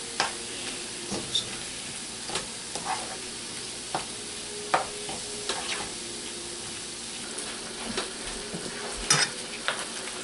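Sliced steak fries in a pan at a street-food stall, with a constant sizzle broken by repeated scraping stirs of a utensil, fairly close and free of talk.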